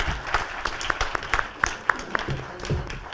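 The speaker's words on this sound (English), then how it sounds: "let's give a big round of applause for this wonderful." A small audience at a school leadership workshop gives a brief round of scattered, fairly quiet hand claps that pick up into a short burst and then taper off.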